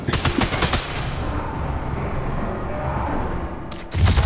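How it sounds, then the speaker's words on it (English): Rapid bursts of gunfire in Sniper Elite 5, loud and close, with dense volleys at the start and again near the end and a steady rumble between. "Who shooting me?"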